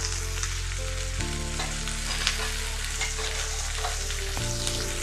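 Sliced onions and cumin seeds fry in a little hot oil, with a steady close sizzle and occasional scrapes of a spoon stirring the pan, and no voices.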